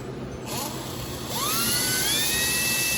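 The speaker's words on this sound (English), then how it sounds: "I'm gonna drill these right here." A power drill whines up to a high, steady pitch as it bites into aluminum, loud and close, starting and then holding a sustained scream.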